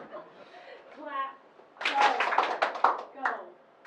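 Several people clap their hands while walking in a workshop exercise. A voice is heard first, then comes a burst of irregular, overlapping claps with some chuckling among the group.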